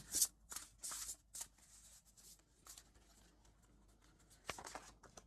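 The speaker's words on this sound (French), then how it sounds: "On va reprendre d'autres cartes d'oracle." Oracle cards being shuffled by hand in quick soft riffling bursts, loudest at the start and again near the end, close and fairly quiet with short pauses between.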